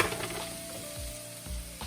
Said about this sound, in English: It just goes straight in there. It'll sizzle a bit.